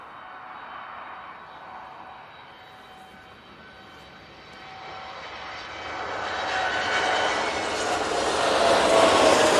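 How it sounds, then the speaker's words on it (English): A TUI Boeing 787-8 Dreamliner takes off at Manchester Airport, its engine roar building steadily from a moderate rumble to a loud, broad, sustained blast as it rolls and climbs nearby. "Tui now on the roll. Off to Palma de Mallorca with a 787-8 Dreamliner."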